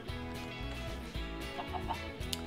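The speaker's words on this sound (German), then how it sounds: "da sollten hier zwei Hühner rauskommen, hoffe ich" Chickens cluck in the Minecraft Sky Factory 3 modpack, a few short clucks near the end over steady, dense background music.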